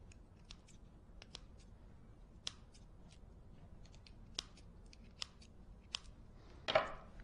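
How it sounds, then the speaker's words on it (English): Scissors snipping off excess tape on an ROV motor, a series of sharp, close, separate cuts spaced irregularly against quiet background, ending in a slightly longer rustle. "use a pair of scissors"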